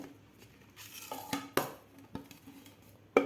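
A metal knife scrapes around the edge of a cooled semolina (rava) cake in a kadhai, giving soft scraping with a few sharp clinks against the metal, close by and quiet.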